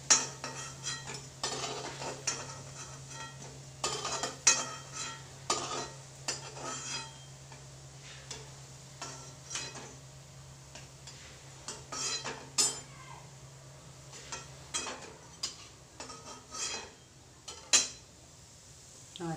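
Gulab jamun balls fry in a pan of oil with a steady low sizzle while a metal utensil repeatedly clinks and scrapes against the pan, loud and close by.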